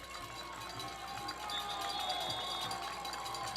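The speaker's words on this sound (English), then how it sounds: "Eagle crowd making some noise" A high school football crowd cheers for the Eagles at a Brookland-Cayce versus Airport game, a steady distant roar that swells partway through while a commentator talks over it.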